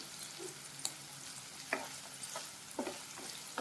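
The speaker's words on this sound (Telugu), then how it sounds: "ఇవి కూడా యాడ్ చేసుకొని ఒక 10 మినిట్స్ ఫ్రై చేసుకోండి." Ragi noodles being fried and stirred in a pan, with a steady low sizzle and a few sharp scrapes and clinks of a spoon against the metal at irregular intervals, close by and with no talk.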